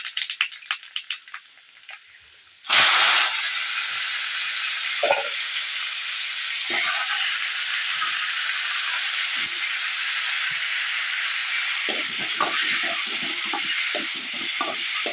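Panch phoron spices and a bay leaf hitting hot oil in a heated kadai burst into a loud, sudden sizzle that hisses on steadily, with scattered stirring clinks and scrapes in the later part.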